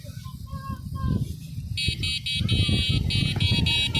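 A loud, bright electronic horn on a Kuba electric bicycle blares steadily after a stretch of muffled voices and background rumble, close by with people talking around it.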